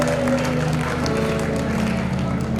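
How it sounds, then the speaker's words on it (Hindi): Audience applause at a devotional festival gathering, a dense continuous roar of clapping filling the short stretch, loud and even with a low hum underneath. "एक बार जोरदार तालियों से स्वागत कीजिए"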